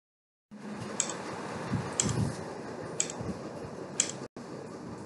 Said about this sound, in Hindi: अभी हमने बिल्ली और घड़ी की आवाज सुनी